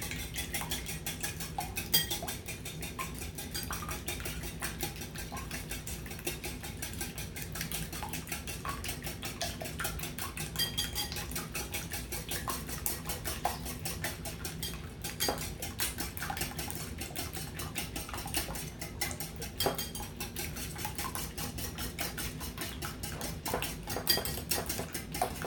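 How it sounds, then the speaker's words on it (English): Eggs are beaten with Borden's 2% milk and a teaspoon of sugar in a bowl, a rapid continuous clicking and tapping of a utensil against the dish, steady and close throughout with no talking. "beat the eggs"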